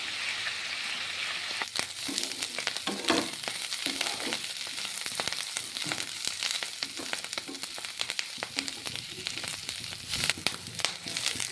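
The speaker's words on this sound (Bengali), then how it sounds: "এবার ভালো করে ভেজে নেব সব কিছুতে" Cabbage and whole green chilies frying in a pan, a loud close sizzle broken by frequent scraping stirs and crackles, continuous with no voices.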